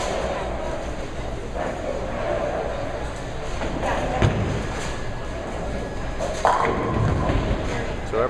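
At a Spin Alley bowling tournament final, a ball strikes the pins with a dull thud and clatter, heard under steady commentary in a reverberant alley.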